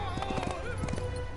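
Clip-clop of a horse in the game Smite as the god Hachiman is dragged along by his mount, a short run of rhythmic hoof beats with a whinny over a busy game soundtrack, with voices talking over it.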